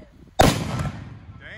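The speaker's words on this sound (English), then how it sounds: "First volleyball mortar shot ever." An 1841 siege mortar firing a volleyball: a single loud, sharp boom after a brief quiet, trailing into a long rumbling decay outdoors.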